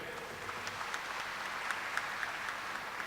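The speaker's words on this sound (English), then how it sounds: "Let us welcome her by clapping." An audience claps to welcome a guest at a gathering in Haridwar, a fairly faint, steady wash of applause with a few sharper individual claps standing out.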